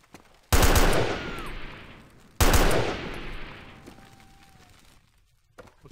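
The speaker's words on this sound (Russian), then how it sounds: "Там пулемет работает вдалеке." Two loud bursts of machine-gun fire in a video game set in an underground railway tunnel, each sharp onset trailing off into a long echoing decay, separated by about two seconds, with no talk.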